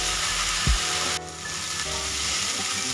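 Spices roasting in a pan for a white-gravy bhindi dish sizzle loudly and steadily, with a brief scrape of stirring partway through and no voices.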